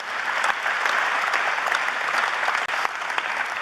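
Steady, full applause from a large audience at a conference closing plenary, continuous dense clapping with a brief dip partway through.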